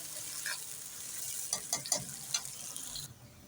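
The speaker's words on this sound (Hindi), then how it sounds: "बस इसको हम फ्राई होने देंगे 4 से 5 मिनट तक," Onions fry in a pan for mutton korma, giving a steady, quiet sizzle broken by a few close scraping stirs partway through.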